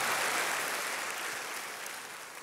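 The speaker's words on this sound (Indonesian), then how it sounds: "Tepuk tangannya yang paling meriah buat Tuhan kita" A church congregation applauds together for God, a dense, bright roar of clapping that is loud at first and tapers slightly over its short length, with no speech.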